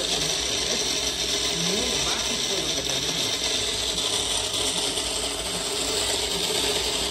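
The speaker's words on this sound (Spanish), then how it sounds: "Este es tu molinillo." Coffee grinder grinding coffee beans, a steady dense whirring and rattling that runs without pause from start to end, with voices faintly underneath.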